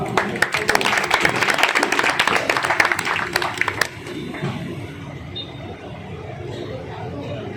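An audience at a Jain community drama performance applauds the actors with dense, brisk clapping for several seconds, then the room settles to a quieter murmur as a voice carries on.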